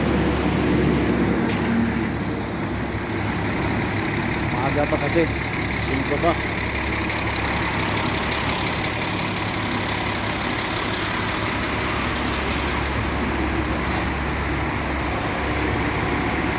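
Buses idling at a quiet early-morning Filipino bus terminal: a dense, steady low engine hum and diesel rumble fills the background while someone talks over it.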